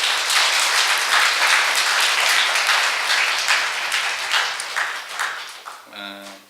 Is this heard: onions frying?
no